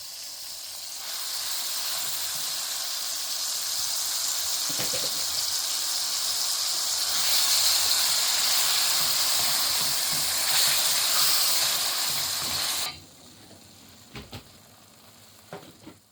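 Lamb mince, rinsed and drained, sizzles loudly and steadily in a hot pan for a samosa filling, with a few stirring knocks before the frying abruptly drops to a quieter hiss near the end.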